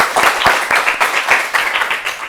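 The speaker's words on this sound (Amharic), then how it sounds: "አጨብጭቡለት" Audience applause for a contestant on a children's TV quiz show, a steady burst of many hands clapping close and fairly loud for a couple of seconds, with a faint voice mixed in.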